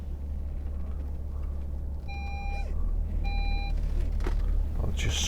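Two short bursts of high electronic parking-sensor beeping, each a quick run of identical tones, over a steady low engine rumble inside a 2010 Audi Q7 3.0 TDI.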